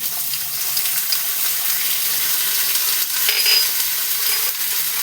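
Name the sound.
ginger and green chili paste added to the cooking pan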